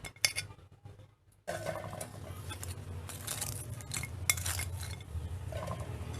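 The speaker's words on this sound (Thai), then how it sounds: "สด็จน้ำมันแล้วค่ะ ตักใส่จาน ไว้เลย" Crispy fried pork scooped from hot oil onto a plate, quiet clinks and scrapes of a metal utensil against a pan and dish, with a brief pause before steady clattering resumes.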